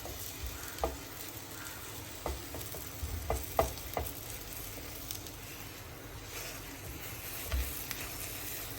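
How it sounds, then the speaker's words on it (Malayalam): Bread snacks for iftar fry in hot oil with a soft, continuous sizzle, punctuated by faint clinks and taps as pieces are turned, close by and with no talking. "ഇങ്ങനെ മൊത്തം ഒന്ന് തിരിച്ചിട്ടെല്ലാം മൊത്തം ഒന്ന് സെറ്റാക്കി ഫ്രൈ ആക്കി കൊണ്ടുവരാം"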